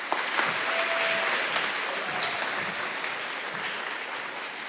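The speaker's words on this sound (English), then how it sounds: "can we keep that round of applause going for all of our student council members that are in the 8th grade?" Audience applause at a middle school 8th grade awards ceremony, a steady wash of many hands clapping filling the hall, fairly loud and sustained throughout without a break.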